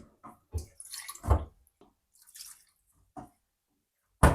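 Water is poured into simmering egg gravy while cooking, heard as a few short, quiet splashes and drips separated by silent gaps.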